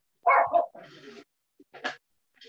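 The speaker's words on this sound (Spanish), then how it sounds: "Escucho unos ladridos de fondo." A dog barks in the background, a couple of short rough barks followed by quieter yips, separated by brief silences.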